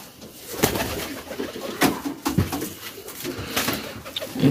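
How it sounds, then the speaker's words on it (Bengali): Pigeons coo repeatedly inside their coop, a close, soft, throaty burbling with a few sharper wing or movement sounds between calls. "এগুলো আমার কবুতরের ঘর।"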